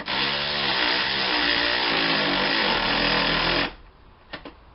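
A Milwaukee power tool snugging a 17 mm starter bolt on a 2007 Honda Accord gives a loud, close, continuous motor whine for several seconds, then cuts off, leaving a couple of faint metallic clicks.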